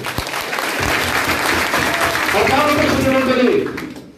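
An audience at an outdoor event in Kanaighat claps for the chief guest, a police official, in a loud, sustained burst of applause. A voice can be heard over the clapping toward the end.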